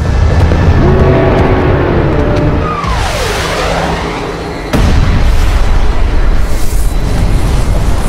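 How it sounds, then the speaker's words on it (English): A huge boom for the Chicxulub asteroid impact: a descending whistling rush sweeps down, then a sudden loud blast that rolls into a sustained, heavy rumble. "The asteroid hits with an explosive force of 100 trillion metric tons"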